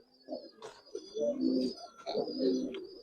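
Giribaz and colored pigeons coo close by in two rolling, throaty phrases, with a faint higher chirp above, and no other noise around them.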